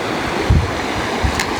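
Outdoors at a fishing spot, a river rushes steadily while wind buffets the microphone with low thumps, making a loud, continuous wash of noise.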